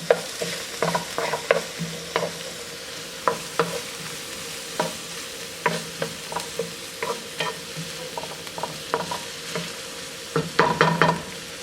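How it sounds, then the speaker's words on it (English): Chopped garlic is stirred in a pan over a soft sizzle, with frequent sharp scrapes and clicks of the utensil against the pan coming close and irregular, no voices. "I'll add in 1 tablespoon of chopped garlic. Mix that around."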